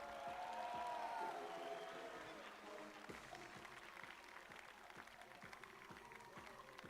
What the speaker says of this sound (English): A big round of applause for the 3 teams